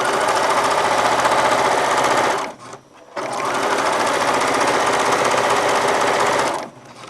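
Domestic sewing machine stitching in the ditch during machine quilting, a loud steady whir of rapid needle strokes that pauses briefly midway, then resumes and runs on.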